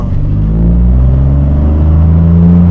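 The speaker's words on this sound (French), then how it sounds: "la voiture elle bombarde bien comme il faut quand même" A tuned 2021 Opel Corsa 1.2 PureTech with a stage 1 remap and semi-bucket seats accelerates hard, its loud, close engine drone rising steadily and continuously with a heavy low rumble.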